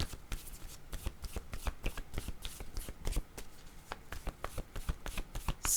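Tarot cards are shuffled by hand close up, producing a continuous rapid riffling and flicking with soft slaps as cards are drawn, and no talking over it.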